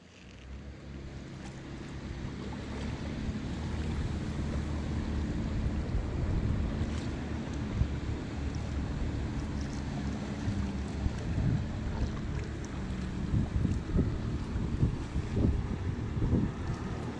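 Boat wake waves slosh and rock against a kayak at sea, a continuous rumbling wash with wind buffeting the microphone and scattered splashes growing more noticeable toward the end, with no talking.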